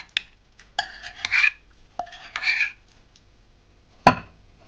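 Hot fried zucchini being stirred with three cloves of garlic squeezed through a press, heard as a few short scraping and rubbing strokes in separate bursts, then one sharp clack near the end.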